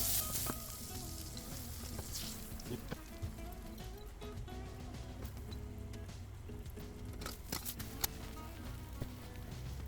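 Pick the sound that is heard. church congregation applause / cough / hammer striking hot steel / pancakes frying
pancakes frying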